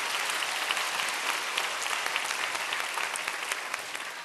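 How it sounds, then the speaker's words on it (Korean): A room full of people at a church gathering claps steadily, dense and even applause holding for a few seconds with no talking. "박수 먼저 한번."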